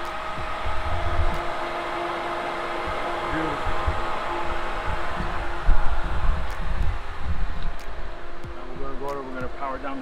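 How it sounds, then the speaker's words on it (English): A Pentair pool filter pump with an IntelliFlow variable-speed pump runs as a steady whir of motor hum and water flow, continuous throughout, with brief rattling bumps and a few faint handling noises. "Our filter pump is on, and the IntelliFlow is on"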